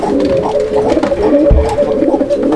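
Pigeons at a bird market cooing close by, repeated soft throaty calls overlapping in a steady rhythm, loud and clear with no talk.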